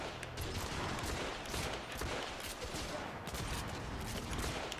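Gunfire in The Order: 1886, a dense, continuous stretch of rapid automatic shots with explosive crackle, loud and close, over a busy game backdrop.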